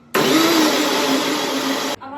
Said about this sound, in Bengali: মেথি দানা এটাকে মিক্সিতে ফার্স্টে পেস্ট করে নেব।